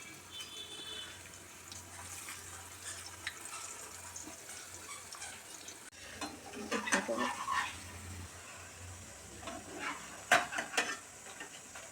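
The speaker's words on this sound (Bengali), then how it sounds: "পরোটাগুলো ভাজা হয়ে গেছে, এরকমভাবে ভেজে নিতে হবে।" Parathas frying in oil in a kadai, with a low, soft sizzle that grows louder and busier partway through as the bread is turned and stirred, accompanied by scraping and clinks.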